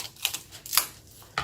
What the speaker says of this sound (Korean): 이거를 머리를 가위로 자르겠습니다